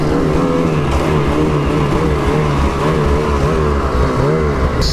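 A Ski-Doo turbo snowmobile engine runs loud and close, a steady droning rev with wavering pitch that rises and falls slightly, continuous throughout and with no voices.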